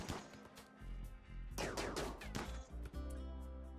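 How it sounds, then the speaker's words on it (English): A colonist fires a gun in the video game RimWorld: quiet, crackling bursts of shots come in quick clusters, with a dense volley in the middle and a softer tail. "So Leia, you just keep shooting."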